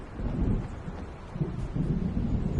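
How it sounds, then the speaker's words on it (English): Low, rolling thunder from an approaching storm in Alan Wake Remastered rumbles in deep, swelling waves over light rain, building again near the end with no voices. "It seems there's a storm coming."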